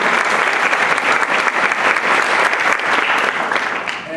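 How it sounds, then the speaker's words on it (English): Audience at a school concert program applauding the young narrator, a dense, loud, steady wash of many hands clapping that carries on evenly and fades slightly at the very end. "Give her a round of applause."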